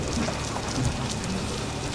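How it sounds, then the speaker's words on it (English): Rain falling outdoors, a steady dense hiss of drops pattering on surfaces, continuous and moderately loud with no talking over it. "Folks, I think it's raining out here."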